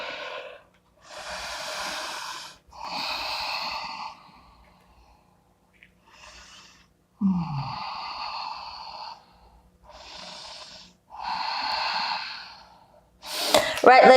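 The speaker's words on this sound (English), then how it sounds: "And breathe." Repeated loud, airy breaths during a flowing yoga class, with long rhythmic inhales and exhales spaced about a second apart, close and clear, ending with a sharp burst.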